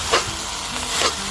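Mustard greens frying and being stirred in a pan: a steady sizzle with two brief scraping stirs, close and alone with no talk.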